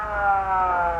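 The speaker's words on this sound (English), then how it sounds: "you use your siren" A police car siren in an old film, a sustained, steady wailing tone for about a second with no voices over it.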